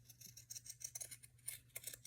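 Bulky, heavy scissors make a quick run of soft, close snips through paper being cut for a journal cover, faint and without talk.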